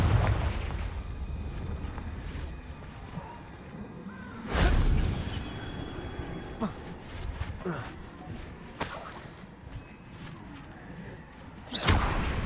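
Fiery Confringo spell blasts from Hogwarts Legacy combat burst out loudly twice, once midway and again near the end, with smaller crackling impacts between them over a busy game backdrop, and voices can be heard throughout.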